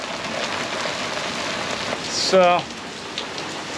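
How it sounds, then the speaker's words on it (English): Steady rain falls outdoors, making a constant dense hiss and patter throughout. A voice briefly speaks over it midway. "and it's raining, of course"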